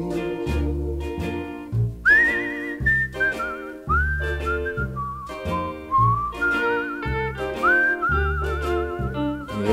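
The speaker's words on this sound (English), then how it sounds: "It's a whistling tune for walking in the night." Melodic human whistling carries the lead line of a song, wavering and sustained over a full band with steady bass and rhythm, loud and continuous throughout.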